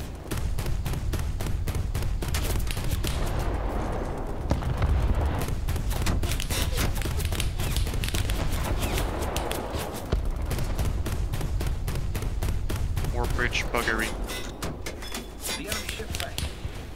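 Steady barrage of naval gunfire in War Thunder with an Italian Navy ship, many sharp repeated shots and booms in quick rhythm throughout, while players talk over the firing.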